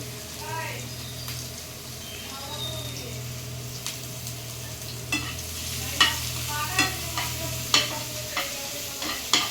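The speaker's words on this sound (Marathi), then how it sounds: "आता तेल तापलं आहे यामध्ये आपण टाकू आलं आणि लसूण जे बारीक कट केलेलं" Finely chopped ginger and garlic frying in a little hot oil, a steady soft sizzle with scraping stirs and sharper clinks toward the end; a low steady hum runs underneath.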